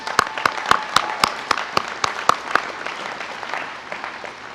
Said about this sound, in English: So I'd like to give them an applause right now.